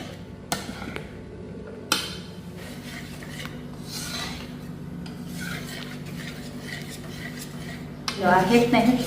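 Stirring a cooking pot in a village kitchen, with crushed cardamom being added: soft scraping and rubbing with a few sharp clinks of utensil on metal, ending in a louder clattering burst.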